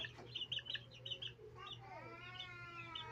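Young chicks, a little over a month old, peeping in a cluster of high, rapid cheeps, with a steady low hum beneath and no talking.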